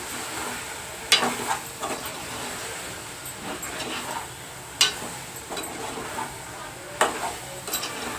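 A spoon stirs chili powder through a raw prawn and drumstick curry in a pan, with soft scraping strokes and a few sharp clinks against the metal over a low background sizzle.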